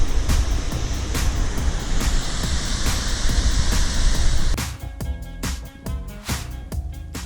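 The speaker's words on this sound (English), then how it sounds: "Ah, it's just a waterfall." A waterfall near Lake Chelan roars as a steady, close wash of falling water for about four seconds, then gives way to quieter, uneven noise with sharp handling clicks.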